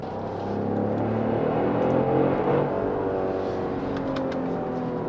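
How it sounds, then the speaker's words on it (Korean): A Genesis GV70 with a 380-horsepower engine pulls hard in sport mode, a steady loud engine drone and road roar swelling slightly midway, heard from inside the cabin with no voices. "스포츠 모드에 세팅을 하니까 차가 조금 더 사나워졌습니다."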